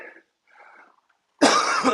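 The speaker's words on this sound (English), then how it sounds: "Excuse my cough." Two faint, muffled sounds give way to a single loud, harsh cough close to the microphone.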